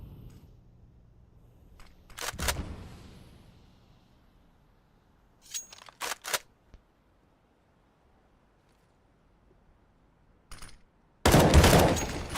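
Enemy gunfire and grenades in a video game firefight: sharp bursts of automatic fire come in separate volleys with quiet gaps between them, ending in a loud, sustained barrage.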